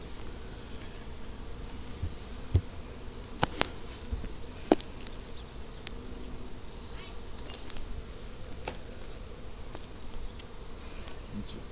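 Honey bees buzz steadily around an open hive during a summer inspection, a close, continuous drone with a few sharp ticks and knocks from handling the frames, and no talk.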